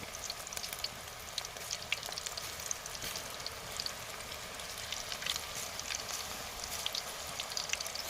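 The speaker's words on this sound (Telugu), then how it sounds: "నూనె అయితే వేడైంది. చిన్నగా పకోడీ ఇద్దాం. ఒక్కొక్కటి పాలక్ పకోడీ." Spinach (palak) pakoda fries in hot oil with a dense, crackling sizzle full of tiny popping bursts, constant and close, with no one speaking.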